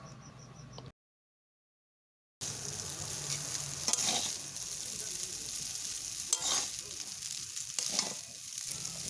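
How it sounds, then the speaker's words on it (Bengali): Chow mein noodles with scrambled egg stir-fried in a pan, a close, steady sizzle with a few louder scraping tosses after a brief silent gap at the start, and no voices. "এরপর ভালোভাবে নাড়াচাড়া করে মিশিয়ে নেব।"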